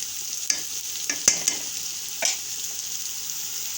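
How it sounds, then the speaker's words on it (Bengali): Onions fry in a pan with a steady bright sizzle while a spatula stirs them, adding several distinct scrapes and knocks over a few seconds, close and without any talk. "পেঁয়াজটাকে আমরা একটু ভাজে নেব, একটু নরম হয়"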